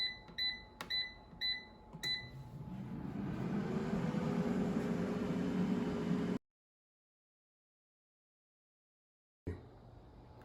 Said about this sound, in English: So let's put it in the air fryer.